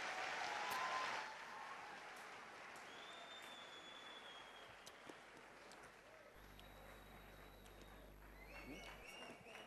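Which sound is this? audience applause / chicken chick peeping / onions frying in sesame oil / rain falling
audience applause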